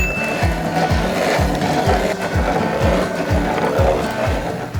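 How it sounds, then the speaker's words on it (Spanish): White corn being hand-ground in a manual mill for tortillas, a steady rhythmic grinding with regular scraping turns about every half second, close and continuous. "Y así vamos a ir moliendo todos los gualos que tenemos aquí"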